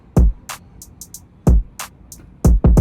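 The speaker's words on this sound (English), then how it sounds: "drums all together without parallel compression and this EQ sound like this" A full FL Studio drum loop plays dry, with no parallel compression or EQ: deep kicks with snappy snare and hi-hat hits, in a steady, loud groove and no voices.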